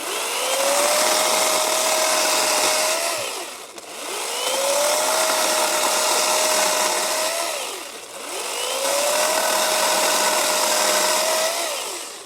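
A Sihuird cordless electric chainsaw cuts through wood in three long, even passes. Each cut brings a steady whine that rises, holds and then drops away, loud and close, with brief dips between cuts.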